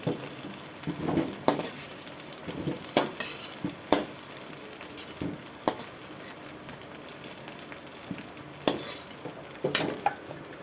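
Bay leaves and white cumin seeds crackle in hot oil for a taro and fish curry, a soft steady sizzle broken by repeated sharp scrapes and clinks of a stirring spoon against the pan.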